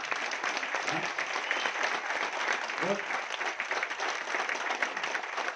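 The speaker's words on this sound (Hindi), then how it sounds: "जरा सारे पुरुष इनके लिए एक जोरदार ताली बजाओ भाई।" Sustained applause from a seminar audience in a hall, steady dense clapping that fills the whole stretch at even loudness, with a couple of brief voices rising out of the crowd.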